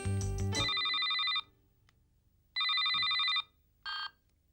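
A cell phone ringtone plays in an indoor scene from a Tamil TV serial: a tonal electronic melody in repeated bursts with short silent gaps between them, and a brief low thud near the start.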